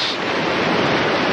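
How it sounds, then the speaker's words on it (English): Ocean surf washes steadily onto an empty Norfolk beach, a broad continuous roar of breaking waves with some wind noise on the microphone, with no voices. "it's good to be back on a Norfolk beach. Lovely, empty Norfolk beach."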